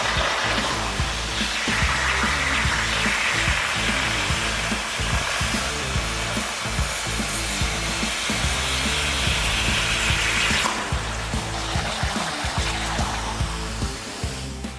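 A ShopSabre CNC plasma torch cuts along a severely bent piece of metal, giving a loud, steady roaring hiss that runs unbroken and alone before easing off near the end.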